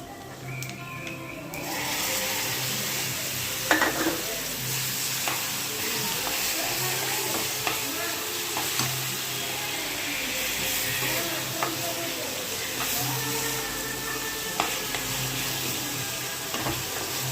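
Tempering for red chili pickle sizzles steadily in hot oil, a dense continuous frying hiss with occasional stirring scrapes and clinks, close and even throughout.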